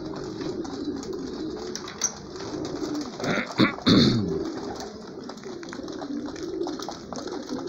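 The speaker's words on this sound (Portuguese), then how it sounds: "É os pombos de voo meu, gente." Homing pigeons cooing steadily in a loft, soft repeated coos close by with a burst of wing flapping and fluttering in the middle, no talk over it.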